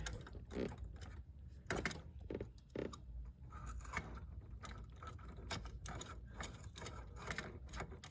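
Ratchet wrench being worked on an Acura RSX, giving repeated bursts of close, sharp mechanical clicking with short pauses between strokes, no talk over it.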